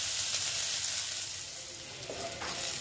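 Sliced bitter gourd frying in a pan, a soft steady sizzle with faint crackles and a few light stirring clicks near the end, heard alone without talk.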